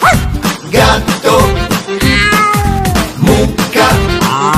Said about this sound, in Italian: Gatto.